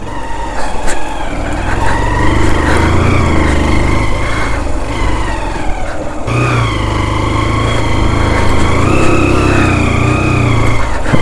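A motorbike climbs a steep hill road at Chandak near Pithoragarh with its engine revving loud and strained, a continuous close drone that dips briefly midway before pulling hard again.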